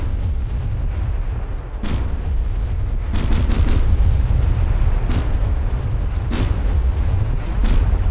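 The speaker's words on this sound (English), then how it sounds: "Yeah, this thunder cannon just sounds a lot like thunder." Heavy low-frequency cannon blasts from the thunder cannon in the naval combat game From The Depths, rolling like distant thunder, with several booming bursts layered over a continuous deep rumble.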